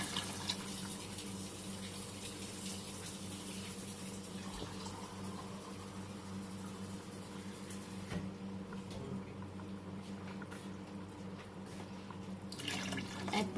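Water pours steadily into a pot of mutton and spinach as it cooks, a soft continuous trickle with faint clinks, quiet and close, with no speech.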